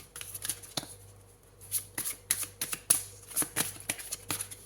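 A deck of oracle cards being shuffled by hand, a run of crisp riffling bursts and slaps in an uneven rhythm, close and fairly quiet with no talking.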